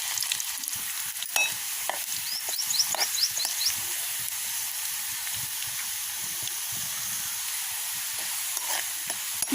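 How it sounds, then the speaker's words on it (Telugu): Raw banana pieces fry in hot oil with a constant bright sizzle and hiss, broken by occasional crackles and stirring scrapes up close. "కొంచెం కొంచెం ముక్కలు ఫ్రై చేసుకుందాం."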